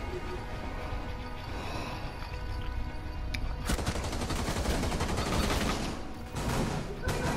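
Rapid gunfire in Rainbow Six Siege, a loud, dense burst of shots and impacts with a brief gap before more firing, heard over game noise.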